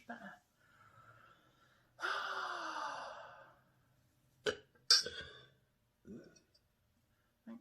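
A few short, sharp hiccups break through soft breathing and a long exhaled sigh, each one a brief isolated catch in a quiet, close setting.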